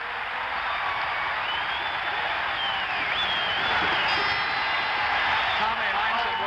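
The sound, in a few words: basketball crowd cheering in Phoenix Coliseum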